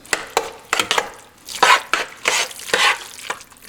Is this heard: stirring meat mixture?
yes